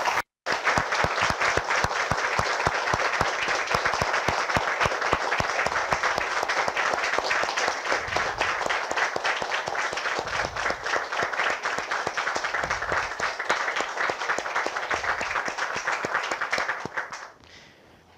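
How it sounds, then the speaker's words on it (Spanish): Sustained applause from a Spanish-speaking church congregation fills the room for about seventeen seconds, thick and even, with no voice over it, before cutting off sharply. "Damos un aplauso"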